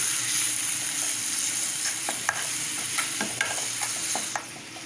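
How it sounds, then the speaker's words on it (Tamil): Steady sizzling of jackfruit seeds sautéing in oil, with scattered clicks and scrapes of stirring, continuous and fairly close, no voices. "இது எண்ணெயில் நல்லா நம்ம வதக்கி எடுத்துக்கலாம்"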